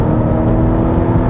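A 2021 Volvo XC90 B6 AWD engine under full acceleration gives a steady, loud, low droning roar with a smooth whir, heard from inside the car with no talk.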